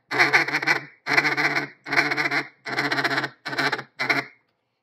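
Duck call imitating a mallard fast feed call: six rapid bursts of quick, rolling clucking chatter, close and loud, separated by short pauses.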